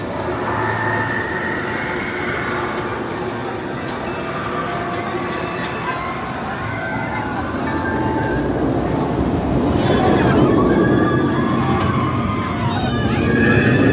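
The Banshee roller coaster train at Kings Island rumbling and clattering along its track, a loud continuous roar with rattling that builds toward the end, with faint crowd voices mixed in.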